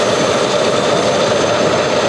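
Airplane engines roar steadily as the plane departs the North Pole, a loud, constant drone with a high whine layered on top, sustained throughout with no speech.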